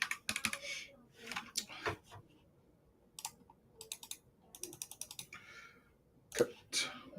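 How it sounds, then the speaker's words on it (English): A computer keyboard is typed on up close in quick irregular bursts of crisp clicks with short pauses, the keystrokes heard alone without talk. "I am going to type in BBQ grill"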